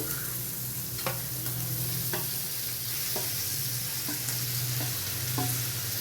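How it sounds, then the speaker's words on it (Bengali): Marinated paneer with onion, capsicum and tomato stir-fries in a pan for restaurant-style paneer tikka masala: a steady close sizzle runs throughout, broken by regular scraping knocks of a spatula stirring roughly once a second. "এটার মধ্যেই সব দেওয়া আছে, আর কিছুই দিতে হবে না, শুধু একটু ভালো করে কষাতে হবে"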